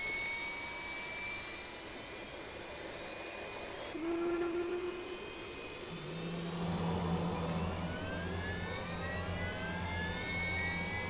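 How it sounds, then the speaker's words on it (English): A T-38C jet's right engine spooling up during a start, a rising whine that climbs steadily, then a steady roaring hum settling in as the engine lights and runs, close and continuous. "Now depress the right engine start button and monitor the aircraft's right engine on the EED."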